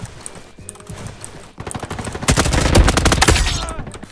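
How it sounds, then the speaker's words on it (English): Rapid bursts of M4 rifle fire in a Roblox Call of Duty game, with a brief opening burst and then a dense, louder volley of sharp automatic shots toward the end, close and with no voices. "No, this is an M4 that's all iced out. Very strong gun, I will say."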